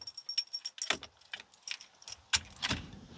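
A cross-shaped key turns in the wheel lock of a Starlink Mini, making close, faint metallic clicks, rattles and jangles over about three seconds.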